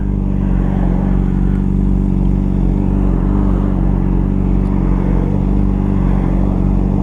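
A motorcycle rolls through road traffic with its engine droning loud and steady, its low harmonic hum close and constant amid faint clatter, with no speech.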